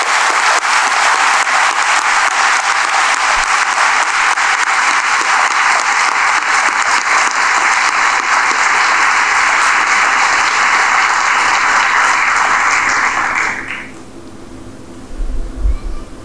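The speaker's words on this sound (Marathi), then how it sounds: "छप्पर फाटेल असा टाळ्यांचा कडकडाट त्यांच्याकरता करा" An audience at a motivational lecture in Sambhajinagar breaks into loud, sustained applause. The clapping is dense and continuous for about thirteen seconds, then cuts off into quiet room noise.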